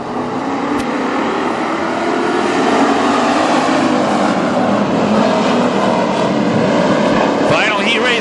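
WISSOTA street stock race cars racing at Granite City Speedway at night, a loud continuous roar of engines. A race announcer talks over the noise throughout.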